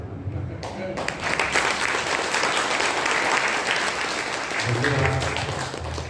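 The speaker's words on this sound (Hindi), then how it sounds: "इतनी बढ़िया ताली बजनी चाहिए कि गायक में भी जोश आ जाए।" Audience applause at an Arya Samaj gathering after a devotional bhajan, a sustained dense wash of many hands clapping together, loud and steady for several seconds, with some voices and low murmur mixed in toward the end.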